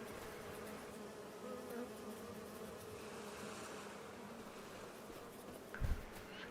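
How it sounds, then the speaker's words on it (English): Bees hum around beehives in Enshrouded, an even, faint, continuous buzzing swarm with a single brief low thump near the end, no voices. "And they've got bees coming in and out of them."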